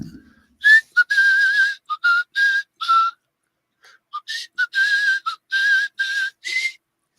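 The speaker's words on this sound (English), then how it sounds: "Does whistling come through with this thing?" Someone whistles a bright melodic tune in two short phrases separated by a pause, clear and close with no other sound around it.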